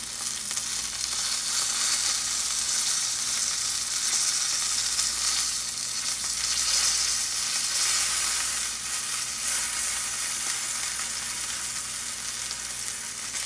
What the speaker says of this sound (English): You're just going to roll them around until you sear them completely.